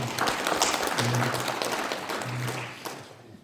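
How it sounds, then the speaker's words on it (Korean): Crowd applause at a local community event, a dense steady clatter of clapping that fills the whole stretch and fades slightly toward the end. "큰 박수 한번 부탁드리겠습니다"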